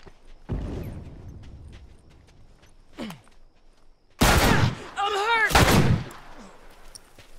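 Sniper gunfire in a first-person shooter video game: a loud sharp shot early, another faint crack, then two heavy booming blasts close together near the end, with quiet ambience between.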